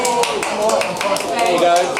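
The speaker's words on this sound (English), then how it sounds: "give her a huge round of applause" A small crowd claps for a sister who organised the gathering, a brief, lively patter of hands heard close by alongside some voices.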